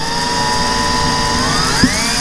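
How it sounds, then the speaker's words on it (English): A power drill runs steadily with a high whine and then sags in pitch as it bites into a plastic nose cone, ending in a brief knock, close and loud. "I'm gonna drill straight through."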